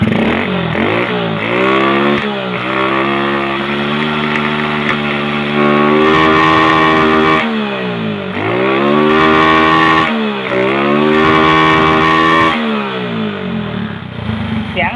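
A Honda MSX motorcycle with its fuel injection converted to a carburetor runs close up. The engine is loud and revs up and down several times in rhythmic swells, settling back between the throttle blips.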